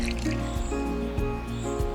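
Water poured to fill water jugs, a close series of drips, splashes and gurgling trickles at low volume with no voices.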